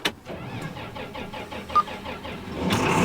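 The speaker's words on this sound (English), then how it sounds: "We're gonna take this tractor and try to put it in the shed too." A farm tractor starting up, its engine cranking in a steady rhythmic series of pulses before catching and running louder near the end, heard up close with no talk.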